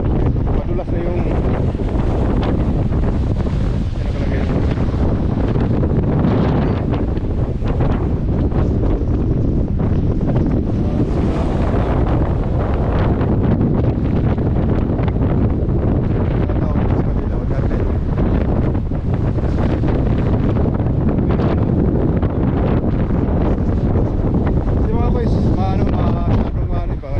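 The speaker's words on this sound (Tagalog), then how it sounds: "sobrang hangin na hangin" Strong tropical storm wind from Hurricane Erin sweeps across Bermuda, a loud continuous roar buffeting the microphone with gusty surges, and a voice speaks faintly beneath it.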